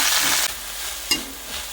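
Washed drumstick leaves dropped into hot tempering oil already holding chilies and curry leaves, giving a loud burst of sizzling and crackling that eases off, with a couple of sharp clatters from stirring.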